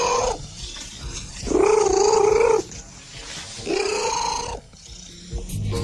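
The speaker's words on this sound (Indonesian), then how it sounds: "Smokey biasanya akan mendengkur dengan suara sekeras pengering rambut atau penyedot debu" A cat named Smokey, entered in a loudest-purr contest and said to purr as loud as a hair dryer or vacuum cleaner, gives loud, strained, growly purring and yowling calls in three long bursts with quieter breathy gaps between.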